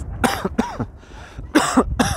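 A man coughs in a hard fit of about four or five sharp bursts, in two clusters with a short pause between them, close by and fairly loud. The setting is an outdoor guided tour of an archaeological zone in Cholula.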